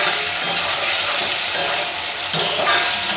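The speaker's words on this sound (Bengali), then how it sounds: "এবার একটু নেড়ে চেড়ে দিই।" Potatoes frying in oil in a pan are stirred, giving a steady close sizzle with a few scraping strokes of the spatula at intervals, and no talk.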